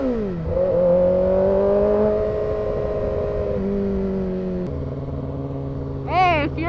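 Motorcycle engine held at a steady, loud, close drone with pitch shifts as it revs, ending in a short rising rev burst; a voice talks over it.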